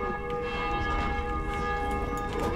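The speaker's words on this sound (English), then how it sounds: "I can hear a guy ringing a bell." A bell rings in a zombie-infested area of the game Dying Light, a resonant tolling tone with sustained harmonic ring over a low rumbling game ambience, moderately loud and heard alone.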